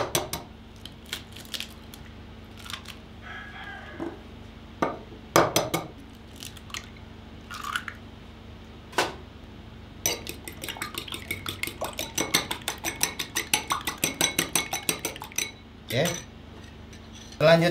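Two eggs whisked in a bowl while preparing potato dough, giving rapid clinking strokes of utensil against the dish that speed into a dense rhythmic run midway, with scattered louder knocks and clinks.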